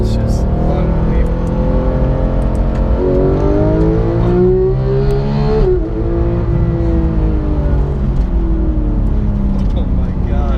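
A 2015 Porsche 911 GT3 engine revs hard while driving, rising in pitch through the gears. A sharp shift drops it partway, then it climbs again, loud and close, with a voice talking over it.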